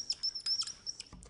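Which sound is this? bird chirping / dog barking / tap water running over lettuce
bird chirping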